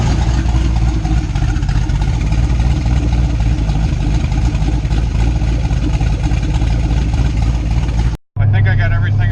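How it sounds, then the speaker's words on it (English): A Ford Camaro with an extended exhaust idles close by, giving a loud, steady low rumble that holds evenly for about eight seconds before a brief cut and a return. "The exhaust sounds pretty good."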